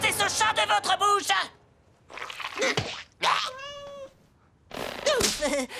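A cartoon cat gives several drawn-out, wavering meows and yowls in separate bursts with short gaps between them, loud and close in an animated show, with dialogue around it.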